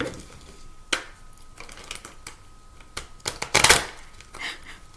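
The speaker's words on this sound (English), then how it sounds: "They're not the easiest cards to shuffle." Stiff tarot cards are shuffled and riffled in quick irregular bursts of crisp flicking and tapping, close by, with no talking.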